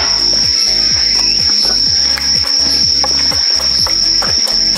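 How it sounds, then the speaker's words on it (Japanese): Bell crickets trill loudly and continuously at a campsite at dusk, a bright, steady ringing chirp over a dense insect chorus with no talking. "スズムシの声がいいね。"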